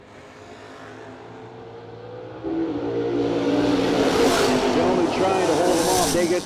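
A 1967 Camaro and an S10 pickup accelerating side by side down a drag strip at a no-delay drag race, engines roaring louder and rising in pitch as they pull away, heard from trackside under an announcer's commentary.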